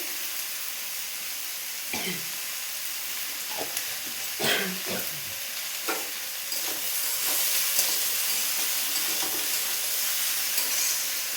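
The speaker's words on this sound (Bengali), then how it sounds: "এইভাবে চাপা দিয়ে দিয়ে আমি ভাজবো" Salted potatoes fry with onion in a pan under a steady sizzle and hiss, with repeated scraping and pressing strokes of a spatula at irregular intervals; the frying grows slightly louder toward the end.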